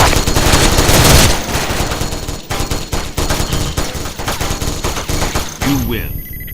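Gatling gun in a multiplayer shooter video game, firing rapid continuous bursts loudly and close for several seconds before the barrage cuts off, with a short tonal game sound at the end.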